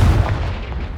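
A Confringo spell blast in the Hogwarts Legacy video game lands as a single loud, booming burst with a heavy low-end thump that rolls off over about a second.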